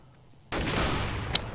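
Gunfire in a Counter-Strike match on de_dust_se, a sudden loud burst of rapid shots breaking in after a quiet moment and continuing densely, with a sharp crack near the end.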